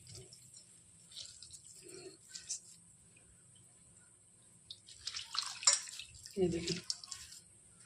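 Water drips and trickles faintly from soaked bread being squeezed by hand, in a few soft, scattered splashes with a brief louder patter near the end, while someone speaks quietly.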